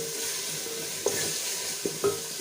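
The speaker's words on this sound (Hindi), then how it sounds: "हम फ्राई करेंगे 1 आध मिनट, ताकि इसमें जो अदरक और सब्ज़ मिर्च का फ्लेवर है वो अच्छे से मसाले में आ जाए।" Spices sizzle steadily in a pan with ginger and green chili as they fry, with a few sharp scrapes and clinks of a spoon stirring against the metal.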